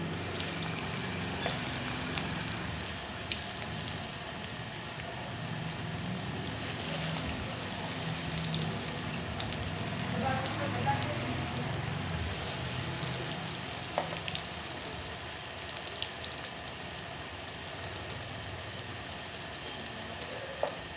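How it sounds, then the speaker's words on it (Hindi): Green vegetable pakoras frying in hot oil, giving a steady, dense sizzle that runs unbroken throughout, with small pops and bubbling crackles near at hand. "ऑयल गर्म हो चुका है, अब इसके अंदर मैं ये पकौड़े डाल दूंगी"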